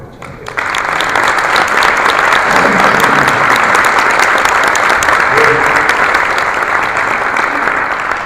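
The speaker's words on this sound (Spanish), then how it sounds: "les pido un fuerte aplauso para recibir a Miguel Ángel Puig" A lecture audience breaks into loud, sustained applause to welcome a speaker onto the stage, dense clapping starting abruptly and holding steady to the end.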